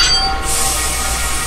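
Train ride in the video game Chernobylite, a steady low rumble of rolling rail cars with faint metallic clinks and a high squeal near the start, continuous and fairly loud with no talk.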